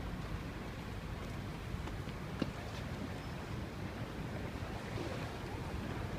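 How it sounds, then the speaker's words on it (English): The River Thames flows quickly near London Bridge, a soft, constant wash of moving water mixed with light wind rumble, faint and distant throughout. "The water is flowing very quickly."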